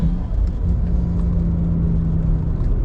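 A DCT-swapped BMW N54 car cruises along a wet road, giving a steady, loud low rumble with a constant engine hum and tire noise throughout.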